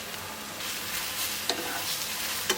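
Eggplant and crushed garlic stir-fry in a pan for bibimbap, with a soft continuous sizzle broken by a couple of sharp scraping clicks of a utensil against the pan.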